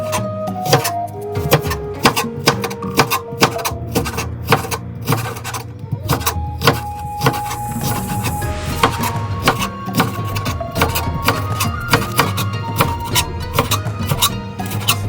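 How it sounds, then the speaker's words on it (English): A knife slant-cuts green onion on a cutting board, with rapid, steady chopping taps close up over background music. "make a slant cut like this"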